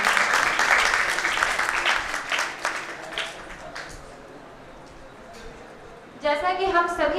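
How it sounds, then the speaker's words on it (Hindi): Audience applause at an International Day of Yoga celebration, a dense stretch of clapping that gradually thins and fades, followed by a voice speaking at the end. "एक बार फिर से जोरदार तालियों के साथ"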